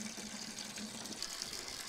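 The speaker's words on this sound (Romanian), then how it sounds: "Pun și la purcică, la scroafă, niște apă." Water poured into a trough for a sow and piglets on a farm, a short faint splashing gush heard up close.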